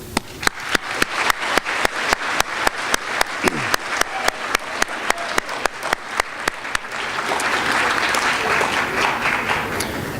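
An audience at a school district distinguished alumni ceremony welcomes the honorees with loud, evenly timed rhythmic clapping in unison that breaks into a fuller wash of crowd applause toward the end.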